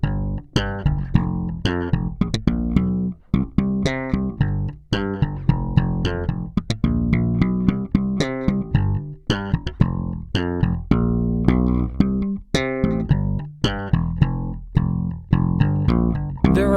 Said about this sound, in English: they often use a slap technique, which is a very percussive playing style that utilizes the thumb to accentuate the intricate